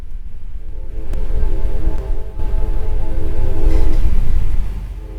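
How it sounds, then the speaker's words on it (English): Deep rumbling of a train passing at a distance, a steady low roar that swells and then fades slightly, with a few faint clanks. "Can you hear the train?"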